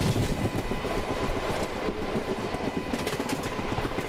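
An ALCO diesel locomotive hauling parcel wagons rumbles past nearby, steady loud rolling noise with rapid clickety-clack of wheels over rail joints throughout.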